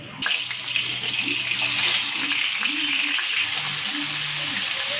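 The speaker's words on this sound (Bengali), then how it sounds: "এখন আস্তে আস্তে তেলটা গরম হলে মাছগুলা দিয়ে দিতে হবে তেলের মধ্যে" Fish frying in hot white oil produce a loud, dense, continuous hiss and crackle that starts abruptly and stays steady, while someone talks underneath it.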